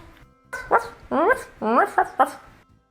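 Several small dogs bark and yip in short bursts, close and fairly loud, in a home setting with a pool nearby, while someone calls to them.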